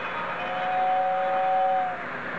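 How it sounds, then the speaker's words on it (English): A model train's diesel locomotive horn, a steady two-tone electronic sound, plays for about a second and a half over a hissy background, fairly loud and close. "you get the diesel whistle"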